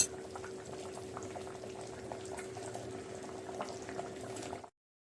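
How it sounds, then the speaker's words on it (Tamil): A pot of spinach curry with tamarind water boils steadily, a dense close bubbling and simmering hiss that runs evenly for several seconds before cutting off abruptly. "ஸோ கொதி வர ஆரம்பிச்சிருச்சு, நான் புளி தண்ணி வந்து சேர்த்துட்டேன்."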